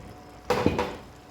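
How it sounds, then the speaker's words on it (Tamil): A metal lid drops onto a pot of pulav with a brief, bright clatter and a quick second rattle as it settles, close by in a quiet kitchen. "இப்போ இதை நம்ம மூடி வச்சிடலாம்"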